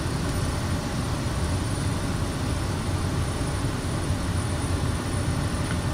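A Kodiak 100 turboprop in Microsoft Flight Simulator 2024 drones steadily in the cockpit, a dense, even rumble with a broad hiss layered over it and no talk.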